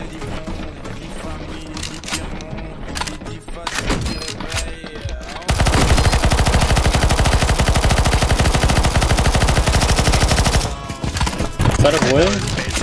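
Turret gunfire in the CS:GO zombie-escape map ze_jerry_malaka_escape_v2fix, with a loud continuous rapid burst of automatic fire in the middle, preceded and followed by scattered shots and game noise with voices.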